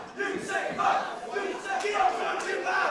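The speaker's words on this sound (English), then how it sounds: "Crowd are disgusted." A pro wrestling crowd at a live show groans and jeers in disgust, a loud collective reaction that swells and fades in several waves.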